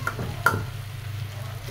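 Spiny gourd (kakrol) fries in a home kitchen pan with a soft, steady sizzle, and a spatula stirs with two light clinks near the start over a low hum.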